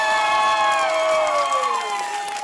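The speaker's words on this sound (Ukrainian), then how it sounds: "Хто за цю дівчинку, ваші оплески?" A crowd at an outdoor karaoke casting in a public square cheers loudly for a girl contestant, a dense wall of high shouts and whoops that stays steady throughout and sounds close and full.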